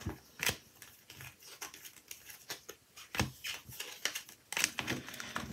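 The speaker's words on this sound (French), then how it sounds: "je vais essayer de remettre toutes les cartes à l'endroit" Tarot cards flipped face up one after another, giving crisp papery snaps and slaps in an irregular rhythm, close and fairly quiet, with no voices.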